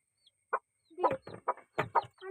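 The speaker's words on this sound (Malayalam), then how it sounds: "തള്ള ഇതാടെ കോഴിക്കുഞ്ഞ്." A hen with her chicks clucks in a series of short, close, separate calls that start sparse and then come in a quicker run of clucks.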